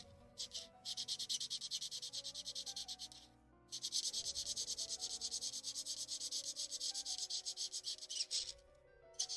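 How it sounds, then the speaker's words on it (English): Steady rubbing, sanding-like scraping on a Halloween craft tag background, near and continuous in long strokes with two brief pauses, no talk. "Excuse the scraping."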